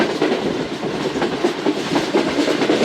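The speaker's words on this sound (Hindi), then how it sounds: "पर एंग्रो टहरकी के सामने से गुजर रही है ट्रेन, और अंदर कवर्ड वैगन्स मौजूद हैं" A train of covered wagons rolls past a fertilizer plant at Engro Daharki, its wheels clattering in a steady clickety-clack at close range with a continuous rumbling roar.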